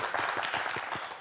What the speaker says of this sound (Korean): 박수 한번 보내주세요.